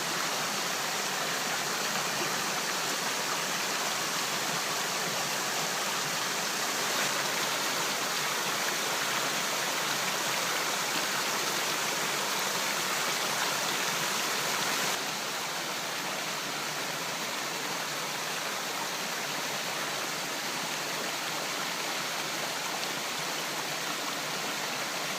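Clark Creek, a stream along the Coeur d'Alene River Trail in Idaho's Panhandle National Forest, rushes steadily with a dense, constant broadband wash of water, loud and close, with no voices.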